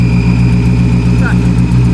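A Dodge Hellcat engine idles steadily with an exhaust leak, a deep, even rumble with a faint ticking pulse, close by, while people talk over it.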